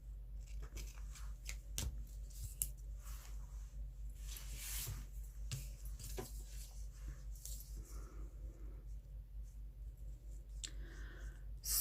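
Quiet snips and small clicks of scissors cutting paper while trimming the top of a Christmas tag, faint and close over a low steady hum.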